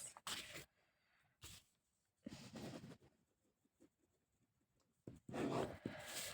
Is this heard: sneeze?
no